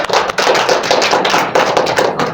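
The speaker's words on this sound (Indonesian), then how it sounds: "Tepuk tangan untuk kita semua." Classroom students clap their hands together in a dense, steady burst of quick claps that stays close and loud throughout, with no talking.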